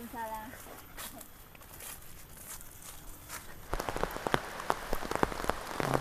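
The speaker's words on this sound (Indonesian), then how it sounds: "Dan sekarang mulai hujan lagi teman-teman" Rain begins falling in a mountain village, a soft patter that swells into a denser, louder spatter of drops on surfaces partway through, with scattered sharp drip impacts and faint background voices early on.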